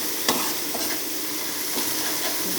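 Eggs being stir-fried into a Barisal-style egg bhuna in a steel pan, with a steady close sizzle and a few sharp scrapes of the spatula, no voices.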